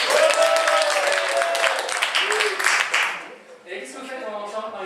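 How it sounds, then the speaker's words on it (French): Audience applause rings out at a live contest show, a dense, loud clapping that fades after a few seconds as a voice and cheering continue. "Applaudissez-moi!"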